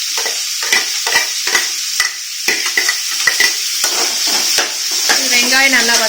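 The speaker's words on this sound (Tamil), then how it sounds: "வெங்காயம் நல்லா வதங்கட்டும்." Onions sautéing in a pan while making kothamalli thovayal: a continuous bright sizzle with regular scraping strokes of a spoon stirring, close and loud, and a brief voice near the end.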